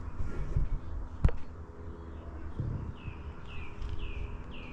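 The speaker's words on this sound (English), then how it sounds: "So nice, just to hear the birds singing." Birds singing at a campsite, a series of small repeated chirps and tweets in the distance over low outdoor ambience, with a single sharp knock near the start.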